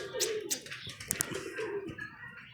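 Pigeons coo softly nearby during feeding, low throaty calls repeating under quiet background voices, with a few brief higher chirps mixed in.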